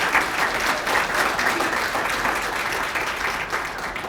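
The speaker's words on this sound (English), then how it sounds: "Would you give him a round of applause, please?" An audience at a public forum on the census applauds, a dense, steady round of clapping from many hands that carries on throughout.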